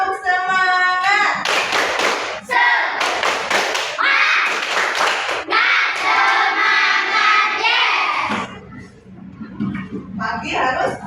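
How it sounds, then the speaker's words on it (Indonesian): A class of students performs the tepuk semangat clapping routine, with bursts of loud, rhythmic hand claps in patterned groups, mixed with chanting voices and shouting close by. "Coba dengarkan. Tepuk semangat."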